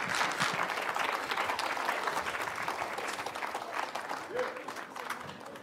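An audience claps after a talk on GM crops and monarch butterflies, a dense, sustained round of applause from a hall crowd at moderate loudness that carries on throughout without thinning.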